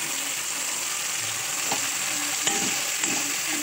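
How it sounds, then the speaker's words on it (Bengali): Tomatoes dropped into a hot pan for a vegetarian dish, with a steady close sizzle of frying and a few light scraping and stirring clicks, no talking. "এখন টমেটোগুলো দিয়ে দিচ্ছি আমি"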